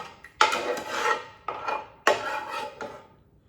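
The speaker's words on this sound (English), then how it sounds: "I know I'm scraping. That's called scraping the bowl." A spoon scraping a bowl of Texas chili, several loud rasping strokes in short bursts with brief pauses between, close and alone without talk.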